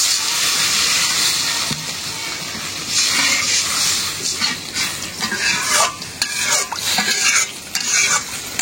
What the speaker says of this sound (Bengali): ঝোল দিয়ে দিই।